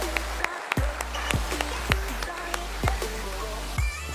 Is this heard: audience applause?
yes